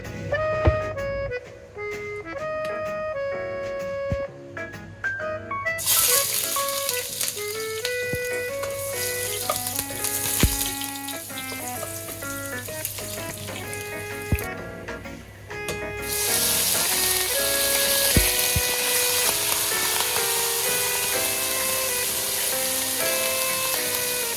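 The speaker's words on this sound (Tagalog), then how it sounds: "Igigisa lang natin siya ng, inu-fry lang natin siya ng mabilis." Pork liempo is fried quickly in a pan for menudo. The hiss swells loud and steady partway through and runs on while music plays over it.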